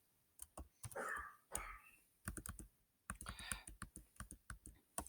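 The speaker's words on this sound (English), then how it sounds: "where it says your name, you type your name" Bursts of close, crisp typing on a computer keyboard, rapid clustered keystrokes separated by short pauses.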